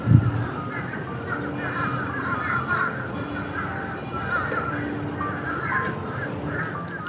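Urban American crows caw repeatedly in a steady series of harsh calls at moderate distance, heard over a constant outdoor background rumble.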